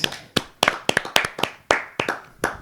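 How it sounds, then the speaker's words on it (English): A handful of people clapping loosely at the close of a podcast recording, about a dozen crisp uneven claps over under three seconds, close-miked with no talk. "Let's clap it up."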